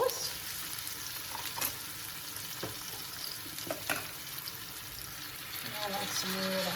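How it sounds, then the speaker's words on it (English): Pork and fennel sausages frying in a pan give a steady broadband sizzle, with sauce being stirred in and brief clinks along the way, while a voice speaks at intervals. "Now I'm just going to add the sauce."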